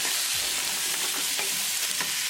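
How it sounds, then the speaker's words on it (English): Carrots, peas and potatoes with spices sizzle in a hot pan as they are stirred, a dense close frying hiss with soft scraping strokes, no voice. "Mix it well."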